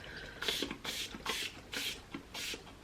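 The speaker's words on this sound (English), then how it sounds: "I'm just going to spray it down on my palette." Five short hissing spray bursts of brush cleaner onto a makeup palette in a steady rhythm, each about a third of a second long, close by with quiet gaps between them.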